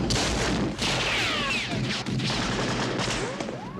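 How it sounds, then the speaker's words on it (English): A .30-30 Winchester rifle is recorded for the Indiana Jones film gunshot sound, giving loud, dense gunfire reports with whining, sweeping ricochet-like tones throughout. "The actual Indiana Jones gunshot was a .30-30 Winchester rifle that was recorded."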